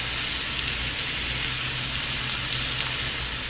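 Ground Angus beef fries in a pan with a continuous, dense, crackling sizzle, close and loud, with faint stirring throughout and no talking.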